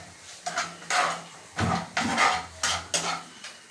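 Chopped ivy gourd and ginger paste being stirred in a pan, with a series of sharp metallic scrapes and clinks of a spoon against the pan at irregular intervals over a faint background hiss.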